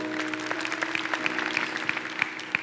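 Church congregation applauding its cell group leaders during a sermon, with scattered individual claps over a steady low hum, moderately loud and without speech.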